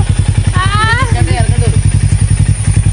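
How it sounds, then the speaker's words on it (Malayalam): A scooter engine labours up a slope, giving a rapid, steady, low throbbing beat close by while someone talks over it briefly. "ഈ സ്കൂട്ടർ തേരിയൊന്നും വലിക്കുന്നില്ല."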